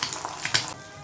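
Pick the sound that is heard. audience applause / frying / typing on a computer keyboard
frying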